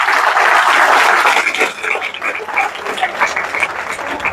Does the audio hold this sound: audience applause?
yes